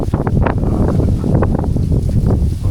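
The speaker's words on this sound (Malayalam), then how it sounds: "പുറത്ത് കാറ്റ് മാത്രമേ ഉള്ളൂ" Loud, steady wind buffeting the microphone outdoors, a continuous rough roar with gusty bursts throughout.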